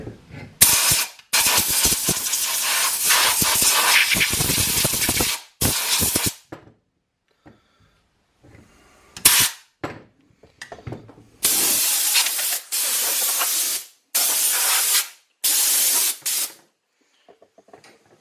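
Compressed air sprayed to blow out a stuck starter on a workbench: several loud, close hissing blasts of varying length, separated by silent pauses and short mechanical clicks.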